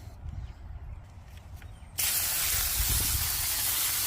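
A water spray rinses a potted fruit tree plant, starting abruptly as a loud, steady, close hiss after a quieter stretch of faint background rustle and knocks.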